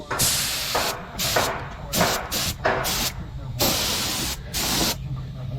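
Spray gun from Harbor Freight laying down thinned coats of Rust-Oleum Rusty Metal Primer on a CUCV M1031 truck, hissing in several bursts of about a second each with short gaps between.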